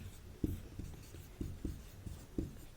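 Chalk or marker writing on a board during a Class 10 science lesson on resistor combinations, faint scratchy strokes with rhythmic taps as letters are formed, quiet and close.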